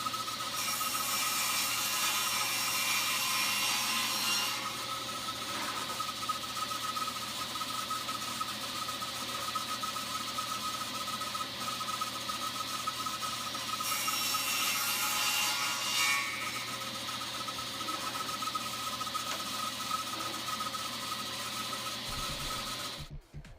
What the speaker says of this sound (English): I transfer that over to my table saw and my little table saw jump sled that I have. And it's just kind of reverse sled